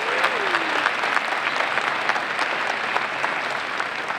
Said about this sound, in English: Please let's give them another round of applause for their outstanding efforts.